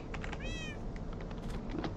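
A single short rising meow from a Minecraft cat, clear and close over a low steady background of game ambience.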